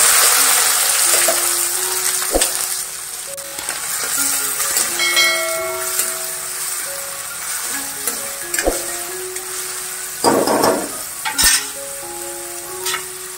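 Steady sizzling of onion frying in hot oil with mustard and cumin seeds, with stirring scrapes, clinks of a utensil, and a few tonal beeps over the hiss.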